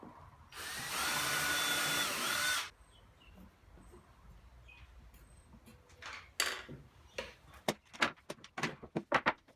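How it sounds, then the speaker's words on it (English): A power drill bores pilot holes into MDF in one loud close burst of about two seconds, followed by quieter scattered taps and knocks. "I first drilled pilot holes into the face piece and then transferred those holes into the MDF"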